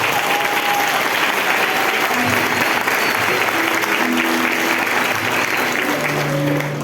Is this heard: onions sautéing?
no